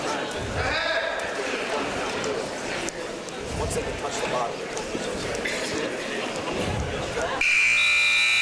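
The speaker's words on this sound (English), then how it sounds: "And there's the buzzer." A high school wrestling match buzzer ends a period, sounding loud and sustained near the end after crowd noise and an announcer's commentary in a gym.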